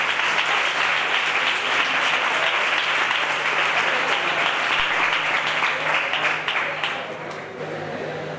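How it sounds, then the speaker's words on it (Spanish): An audience at a youth pilgrimage gathering applauds, dense sustained clapping from a large crowd that carries on steadily and thins out near the end. "Muchas gracias y un aplauso también para ellos"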